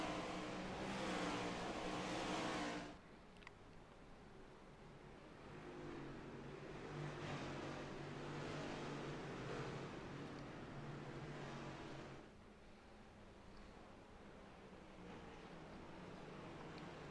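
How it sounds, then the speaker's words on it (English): Stock cars at the start of a round of the Australian Stock Car Championships roar loudly for the first few seconds, then settle into a steady, more distant engine drone that fades further near the end. "I'm going to go quiet for a couple of seconds so we can hear these cars roar away here"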